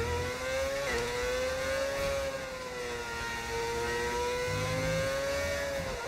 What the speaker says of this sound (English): I'll let you hear the engine noise first, because obviously the engine's quite important.